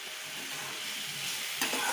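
Grated bottle gourd roasting in ghee in a pan gives a steady, soft sizzle with faint stirring scrapes, close and even throughout, and a sharper scrape near the end.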